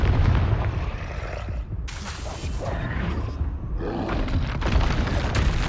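Repeated booming spell blasts from Confringo in the game Hogwarts Legacy, a dense run of loud bursts and roaring rumbles layered with other combat effects, with no voices over them.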